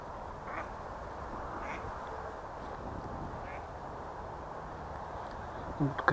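A duck quacks several times, short separate calls over steady wind and water noise outdoors on the Yenisei river by Tatyshev Island, with a louder sound near the end.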